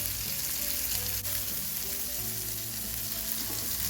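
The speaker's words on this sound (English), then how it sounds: "I have one more fish to be fried" Fish sizzles steadily in hot oil in a pan, frying for a Malabar fish biryani; a continuous close crackle runs alone throughout, with faint low tonal hum beneath.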